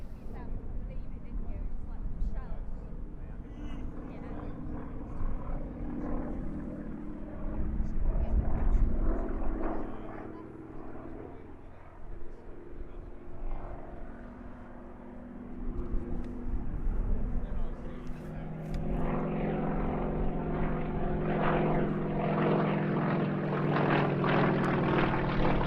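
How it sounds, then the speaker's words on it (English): An Extra aerobatic propeller plane flying a rolling circle at an airshow, its engine drone swelling and fading as it turns, under continuous talk from a commentator. "And now rounding out its display with a rolling circle, rolling the aircraft continuously as it flies a 360-degree left-hand turn."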